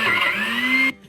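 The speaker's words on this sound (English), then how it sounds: "let's fire up the old blender." An old kitchen blender whirs loudly while mixing a milkshake with crème brûlée, a steady motor drone with a rising pitch that cuts off abruptly near the end.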